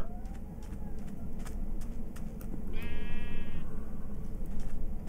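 Several Minecraft sheep bleat over a steady low rumble, their wavering calls overlapping, with one longer, louder bleat in the middle.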